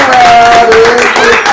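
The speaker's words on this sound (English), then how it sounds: "Watch y'all clap real quick so we can hear" Studio audience of a comedy talk show claps together, a steady, loud burst of applause with voices and tonal sound mixed in over it.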